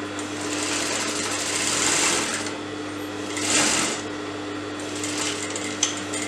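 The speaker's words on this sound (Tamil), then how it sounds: "இப்போ இதையும் அதே மாதிரி நம்ம தைக்க போறோம்" A sewing machine stitches a sleeve onto a blouse armhole with a steady, close mechanical whir that rises in two longer bursts, then ends with a sharp click.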